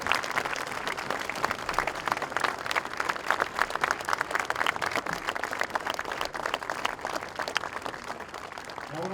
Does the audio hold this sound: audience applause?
yes